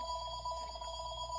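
A landline telephone rings steadily with its electronic bell tones, continuous and fairly close throughout, with no talking over it.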